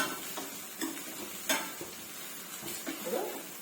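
Chopped onions fry in a pan for Telangana-style egg curry, a soft steady sizzle broken by several scraping stirs and light clinks of a utensil against the pan, close by and without talk.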